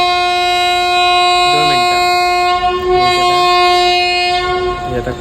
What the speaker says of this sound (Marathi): आता कॉर्नर एक्सप्रेस आली ती आता जाते सी एस टीला